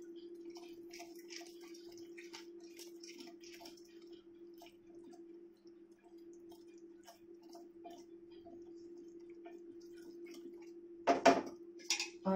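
Bottle gourd halwa being stirred in a pan: faint spoon clicks and taps over a steady low hum, with a louder brief scrape near the end.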